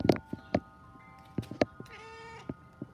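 A cat meows several times up close, with short sharp calls early on and a longer drawn-out meow near the middle, separated by brief quiet gaps and small handling noises.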